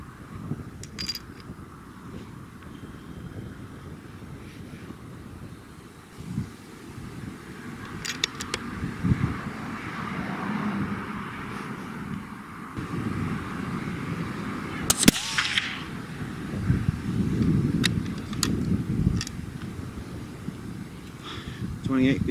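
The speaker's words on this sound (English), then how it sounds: "Wind's picking up again." Wind gusts rumble across the microphone at an outdoor rifle range, building in strength over the stretch, with several sharp distant gunshots cracking through.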